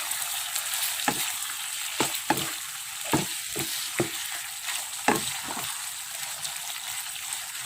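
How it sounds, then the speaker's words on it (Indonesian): A spatula scrapes and clacks in a pan of sizzling sweet and sour beef with chopped spring onions, steady frying hiss broken by a dozen sharp stirring knocks. "Kita aduk rata sebentar ya."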